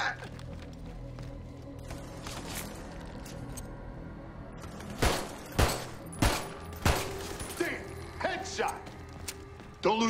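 Gunshots crack in a dark church level of the video game Army of Two: The Devil's Cartel, several loud sharp bursts in the second half over a low rumbling ambience, with voices talking.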